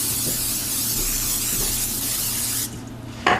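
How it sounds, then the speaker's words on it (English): A continuous hissing spray lasts a few seconds, then cuts off, followed by a short clatter. "let's go ahead and spray our pan"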